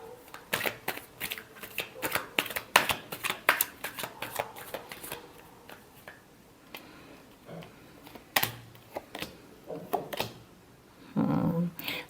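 Tarot cards being shuffled by hand: a rapid run of crisp riffling clicks and slaps in uneven bursts, close by, with pauses between and a heavier rustle near the end.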